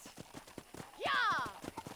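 Horse hooves clip-clopping at a gallop in the Western video game Red Dead Redemption, a steady drumming rhythm under a loud horse whinny and spoken dialogue.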